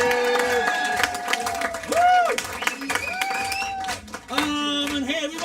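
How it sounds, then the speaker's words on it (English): An audience at a comedy club claps and cheers with scattered whoops under an amplified host's voice, bursts of applause rising and fading across the moment. "let's keep an applause going for all our awesome volunteers that helped us out"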